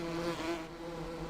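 Bees buzzing in a video game, a continuous, fairly loud insect drone with a wavering pitch, heard alone without talk.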